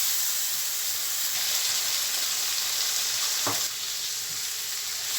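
Chicken sizzles steadily in a spicy masala in a pan, a loud continuous frying hiss with small crackles and a brief stirring scrape partway through, with no voices.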